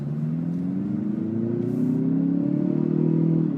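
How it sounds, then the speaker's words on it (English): Engine of a 2016 Hyundai Veloster Turbo under acceleration, a steady loud drone with rising harmonic tones as the turbo spools up, growing slightly louder over a few seconds with no talk. "Hear that turbo kick in."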